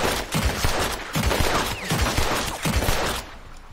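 Two guns firing together in Red Dead Redemption 2: a rapid, loud string of shots in a steady rhythm, roughly a dozen sharp reports close up, trailing off at the end.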